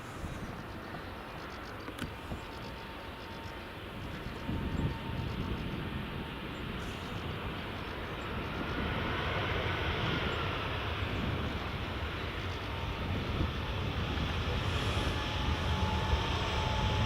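An Edelweiss A320 comes in to land on runway 06 at Edinburgh Airport in the early morning, its engines giving a broad, steady roar that slowly builds in loudness across the clip.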